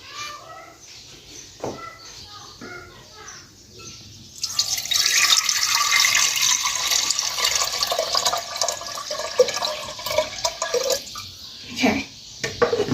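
Milk pours into a pressure cooker on medium heat for rice pudding, a sustained liquid splash and rush starting partway through, loud and close, following a quieter stretch of light clinks and drips.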